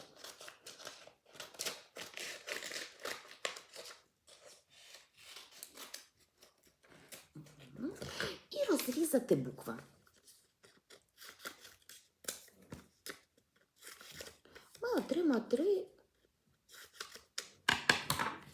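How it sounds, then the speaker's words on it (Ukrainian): Scissors snipping a strip off a sheet of paper marked with letters, two short bursts of cutting a few seconds apart, set among stretches of someone speaking in Ukrainian. "Взяти ножиці, відрізати цю смужечку."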